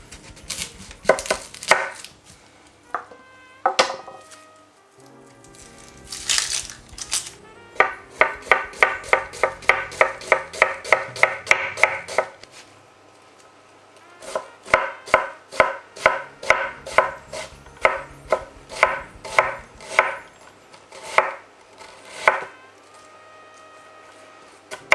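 An onion is chopped with a knife on a cutting board using an onion holder, close crisp knife strikes in quick rhythmic bursts separated by short pauses.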